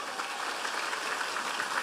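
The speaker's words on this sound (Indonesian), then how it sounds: "Tepuk tangan untuk Indonesia." Audience applause, a brief burst of dense clapping from a crowd, moderately loud and continuous, with no talk over it.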